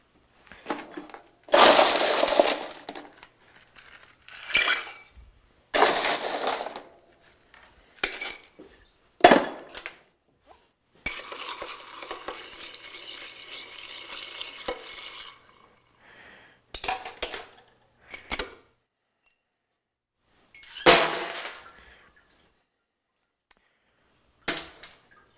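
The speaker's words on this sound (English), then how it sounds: "So I prefer to stir pineapple juice, unless you want the foam, rather than shake it." Ice cubes clink and rattle against a glass as a pineapple juice cocktail is stirred, in intermittent bursts of close, bright chinking with quiet gaps between.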